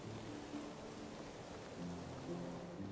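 Rain falls steadily in the medieval survival game Medieval Dynasty as a soft, continuous wash, faint and even, with a few low tonal hums underneath and no talking.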